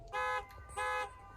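Campground hosts sound an air horn somewhere down the campground, two brief blaring tonal blasts with a short gap between them, moderately distant, heard alone.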